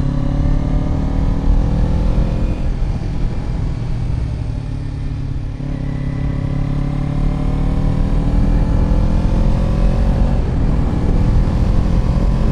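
A Kawasaki Ninja 250 ABS motorcycle with a rusty chain ridden toward Genting Highlands, its engine droning loud and steady throughout, with rising pitch sweeps as it revs through the gears.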